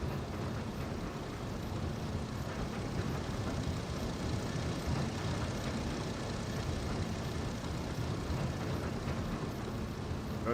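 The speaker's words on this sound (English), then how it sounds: "There's the aeroplane." Propeller aircraft flying overhead in the Farming Simulator 25 game, a steady broad engine drone that holds loud and constant throughout with no talk.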